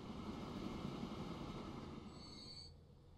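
A large train rolling along rails in the Transport Fever 2 video game, a loud, continuous rumble with a faint high squeal near the end before it fades slightly.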